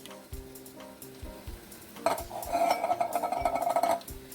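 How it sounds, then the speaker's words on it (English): Meat browning alongside tender vegetables in a pan for sweet and sour cabbage, a soft sizzle of frying with occasional stirring that grows fuller and steadier in the latter half. "while the meat's browning and the vegetables are getting tender"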